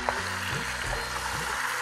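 Garlic and ginger paste fries in a pan with a soft, steady sizzle as it is stirred, quiet and close, with faint scraping touches throughout.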